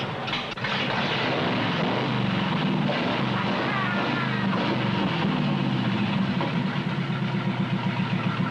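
A 1950 hot rod engine runs at a steady, rough idle, a loud continuous rumble with faint rhythmic pulsing throughout and no clear revving. No one speaks.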